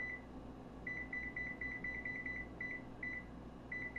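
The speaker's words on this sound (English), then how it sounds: "I'm going to set this timer on my stove here" A stove timer, set for about 20 minutes while eggs steam for hard boiling, beeps in a quick series of short electronic chirps, grouped in clusters with brief gaps, over a steady low kitchen hum.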